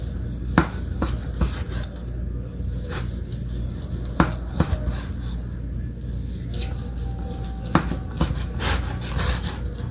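A knife works through a rested roast beef on a wooden board for French dip sandwiches, giving close, irregular taps and soft scraping strokes spread across the moment.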